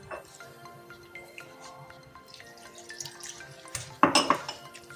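Water trickles and drips into a bowl of flour while dough for layered lachha paratha is kneaded, with soft clinks of a metal dish and a sharper splash and clatter near the end, no talk.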